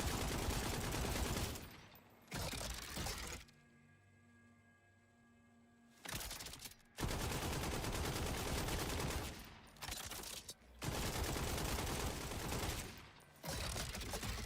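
Explosive rounds fire in a video game, loud sustained bursts of rapid gunfire broken by short pauses, with no talking over it.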